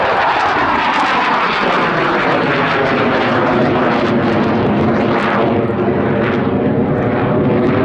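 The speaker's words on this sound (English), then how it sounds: "she'll do a 360 just to really show off that beautiful shape, and also hear those two engines" De Havilland Sea Vixen twin-engine jet at an air display at Yeovilton, roaring loud and steady throughout as it passes overhead, its broadband engine noise filling the whole stretch without pause.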